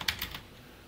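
A few quick clicks of a computer keyboard as Python code is typed, three or four light taps at the start fading into quiet, close and fairly soft.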